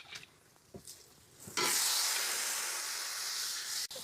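Potatoes dropped into a hot pan with turmeric for aloo dum burst into loud steady sizzling after a few soft clanks and stirring scrapes, the hiss holding strong for the rest of the stretch.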